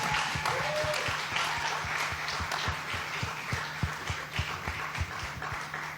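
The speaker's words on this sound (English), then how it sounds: "Let's give him a round of applause." An audience applauds a performer at a stage event at the Generation Africa GoGettaz Agripreneur Prize finale, with moderate, continuous clapping at some distance and a voice speaking over it.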